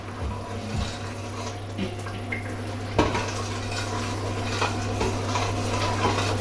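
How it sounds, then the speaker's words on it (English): Water runs into a pot on the stove in a busy kitchen, amid loud clinking of pots, pans and cutlery, with one sharp knock partway through and a steady hum underneath. "I'm gonna add a bit of water."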